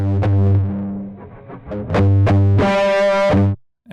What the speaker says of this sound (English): Distortion, of course.